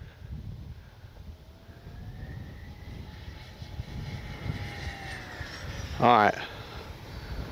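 An Arrows RC Corsair model airplane on a 4S battery makes a speed run, its electric motor giving a thin whine that rises and falls as it passes at a distance over outdoor wind, with someone speaking briefly.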